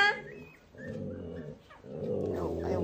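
Husky puppies growl and whimper at close range in a loose run of yips, with a person's voice talking over parts of it.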